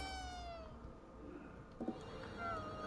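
A cat meows in the video game Ghostwire Tokyo, giving a few short, clear mews over a steady ambient game background.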